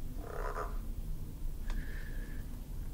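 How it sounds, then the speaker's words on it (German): Frogs croaking inside a cupboard, a low buzzing croak followed by a sharp click and a thinner sustained call, over a muffled background hum. "Da sind seit Tagen Frösche im Schrank."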